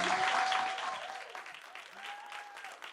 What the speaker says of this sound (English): Round of applause more time, guys, for Agnez.